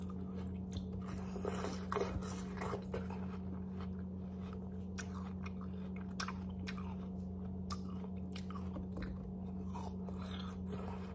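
Crisp, crunchy watermelon is chewed close up, with steady wet crunching and biting sounds over a constant low hum.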